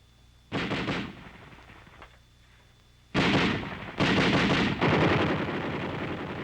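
American .50 caliber anti-aircraft machine guns fired by students at a wartime airfield, loud sustained bursts of heavy gunfire in several long blasts separated by brief pauses, with no talking.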